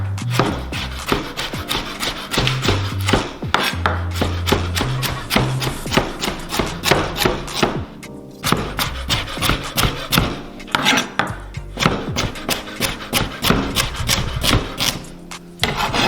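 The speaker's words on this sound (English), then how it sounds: "So I'm gonna do some slices on the carrots." Knife chopping carrots into rounds on a cutting board, a fast run of close, sharp, regular knocks with a short pause midway, no voices.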